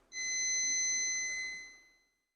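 A multimeter's continuity beep sounds while a mobile phone circuit board is tested during repair: one steady, fairly quiet electronic tone lasting about a second and a half, heard alone.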